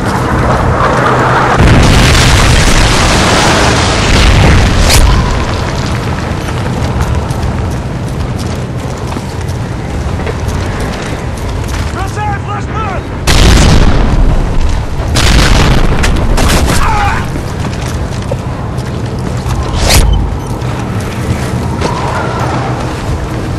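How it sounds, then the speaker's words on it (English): Missile strike explosions roll through a Modern Warfare 3 Search and Destroy match, heavy loud booms and rumbling blasts that stack up over a sustained roar, with sharper bangs breaking through. "missile inbound"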